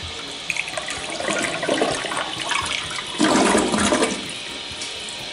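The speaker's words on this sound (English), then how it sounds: "the flush is super quiet and satisfying with its royal swirls" Kohler toilet flushing: a steady rush of swirling water that swells into a louder gush midway, then settles back to a softer flow, with no talk.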